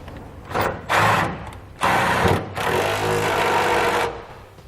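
A power impact tool fitted with a 3/4 inch socket drives a nut onto a carriage bolt during a fifth wheel hitch install on a Ram truck, heard as loud close whirring bursts, two short runs and then one long run.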